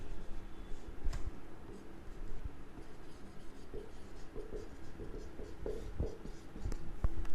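Chalk or marker scratches across a board during an accounting lecture, a steady run of close, dry strokes with sharp taps at irregular moments and no speech.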